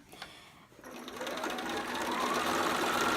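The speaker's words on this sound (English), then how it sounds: "we'll continue to sew along this edge until we get to the pin" A sewing machine stitches along a fabric edge to form an elastic casing, with a faint tick at first and then a steady, rising mechanical whir that runs close and alone.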